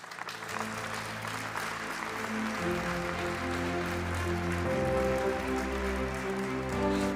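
A large crowd at the FIBA Hall of Fame ceremony applauds continuously to welcome the FIBA president, a full, steady roar of clapping over sustained musical tones throughout.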